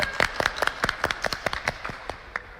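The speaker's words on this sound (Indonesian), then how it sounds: "Ya, berikan tepuk tangan." Children and adults at a Sunday school service clap together in quick, irregular bursts, producing a lively patter of overlapping hand claps close by that thins out toward the end.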